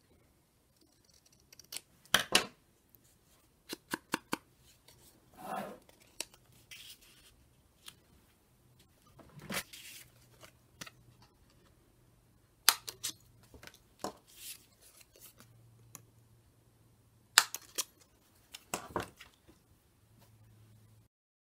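Scissors snip through paper for handmade junk-journal notepads, heard as short, crisp cuts in scattered bursts separated by quiet pauses, close and fairly soft, with faint paper rustling between the cuts.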